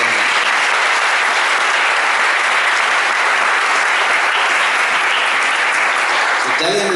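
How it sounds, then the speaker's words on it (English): A large audience at a spiritual retreat session breaks into loud, sustained applause, a thick continuous roar of clapping that fills the whole stretch before tailing off at the end. "Give him a big hand."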